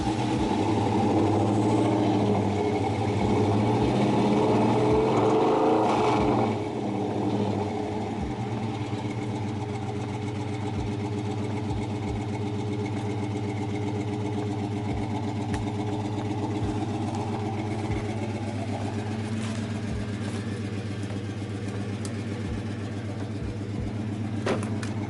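A Mopar car engine runs steadily in drive under load, a continuous low drone with a faint rough, uneven undertone; a brief louder stretch at the start settles into a constant hum, with no talking.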